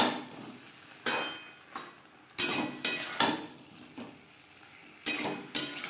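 Fried potatoes and cauliflower stirred into spice masala in a pan, a spoon scraping and clanking against the metal in irregular knocks with quiet sizzling in between.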